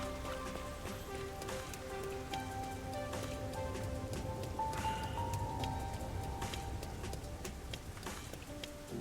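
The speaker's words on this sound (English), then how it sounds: "It's always raining." Steady rain falls across a detective video game city, with continuous patter and scattered drops hitting surfaces, accompanied by soft ambient tones and no talking.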